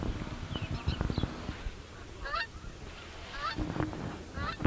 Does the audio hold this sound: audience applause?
no